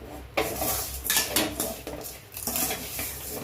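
Halwa being stirred in a pan with repeated scraping and clinking of a utensil against the metal, a steady close-up rhythm of strokes with no talking.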